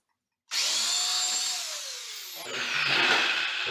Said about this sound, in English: and I will drill again.